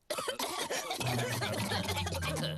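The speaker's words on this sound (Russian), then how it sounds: "все взрослые заразились кашлем от Педро" Loud, harsh coughing and throat clearing from cartoon characters in a Peppa Pig episode, a rapid string of hacking bursts over a busy background, with a faint hum underneath.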